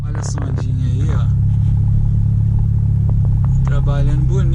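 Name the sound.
car driving in traffic with air conditioning on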